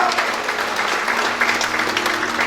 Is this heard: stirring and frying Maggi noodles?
no